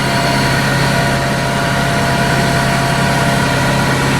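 A tractor engine runs steadily and loudly throughout while it is used for hedge trimming, giving a constant close mechanical drone with a vibrating low rumble.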